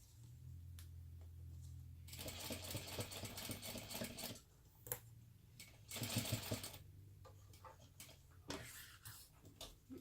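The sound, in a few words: sewing machine stitching a crossbody bag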